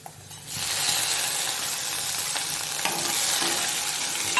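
Garlic and green chilies fry in a hot pan with a loud, constant sizzle that bursts in after a quiet start. Faint scraping and small crackles come through the hiss.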